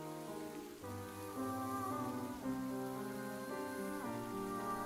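Rain falls steadily in the video game Ender Lilies, a soft continuous hiss beneath sustained, layered musical tones that shift chords every second or so.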